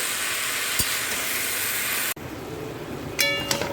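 Punarnava greens cook in a kadai (wok), giving a steady sizzling hiss broken by a sharp knock and a few clinks of stirring near the end.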